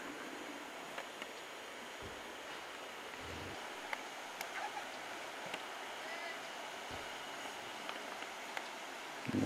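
Water flows steadily in Rock Creek near Crater Lake, a soft continuous rushing with small splashes, faint and distant throughout.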